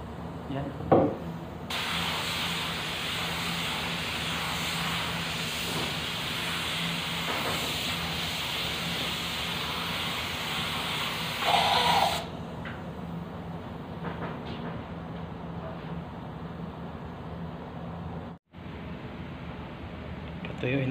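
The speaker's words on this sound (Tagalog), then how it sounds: "Ito na po, in-spray ko na." A spray gun sprays blue automotive lacquer paint in one long steady hiss that cuts off partway through, leaving a quieter room with someone talking afterward.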